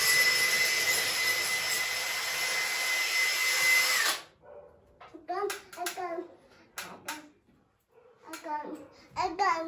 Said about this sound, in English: Daddy's drilling.